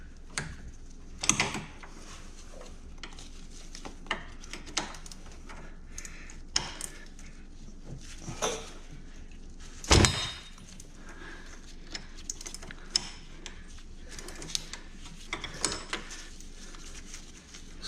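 Ratchet wrench with a 17mm socket working on a Honda Pioneer 700 front CV axle: faint, close clicking and metallic rattles in irregular short bursts, with one louder clank, and no talk.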